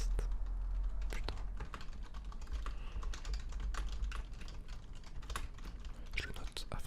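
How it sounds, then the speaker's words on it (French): Close, crisp keystrokes tapped on a computer keyboard in an irregular run, some sharp individual clacks standing out over a soft, hushed background. "vous allez bien aimer les sons de clavier"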